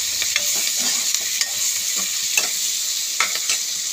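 A spoon stirs fried onions and eggplant filling in a pan, scraping in irregular strokes over a steady, close sizzle of hot oil, with no voices.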